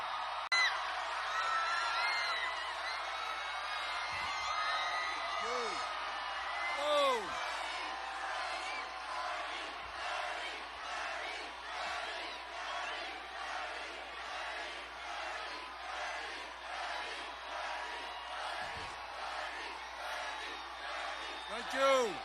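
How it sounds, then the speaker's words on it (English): Crowd in a packed Atlanta theater cheering and whooping for Bernie Sanders, a steady roar with rhythmic clapping and occasional shouts, fairly distant and moderate in level. "Everyone give him a round of applause"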